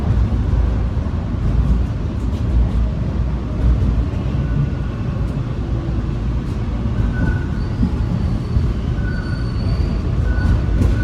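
A Toronto TTC subway train pulls into Lansdowne Station with a steady low rumble of wheels on rails, faint squeals and tonal whines rising over the continuous roar, heard from inside the car.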